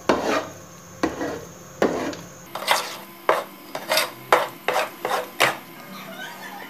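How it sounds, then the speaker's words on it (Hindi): Dal and sugar being stirred in a cooking pot, a series of scraping, rasping strokes of a spoon against metal, rhythmic and close, speeding up into quick repeated scrapes. "दाल में डाल के मैं चला रही हूँ इसे"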